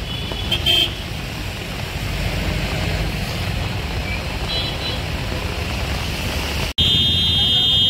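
Road traffic in a jam, a steady dense rumble of vehicles with brief horn-like tones near the start and end, continuous and fairly close.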